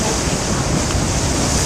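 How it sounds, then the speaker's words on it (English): Hurricane Sandy storm waves roll in from Cape Cod Bay near Plymouth Beach, Massachusetts, as the surge overtops a coastal road. The surf makes a loud, continuous roar mixed with heavy wind buffeting. "the waves coming off of Cape Cod Bay"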